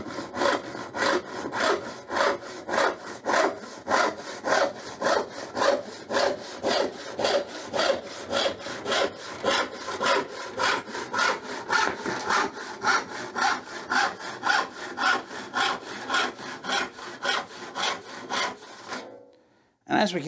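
A freshly sharpened rip-cut handsaw cuts through a piece of scrap pine with steady, rhythmic rasping strokes, dozens of them, close and clear. The sawing ends abruptly near the finish.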